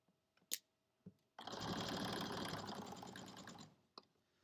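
A sewing machine runs a straight quarter-inch seam on pajama pants or shorts, whirring steadily and close for about two and a half seconds between a few sharp clicks and taps before and after.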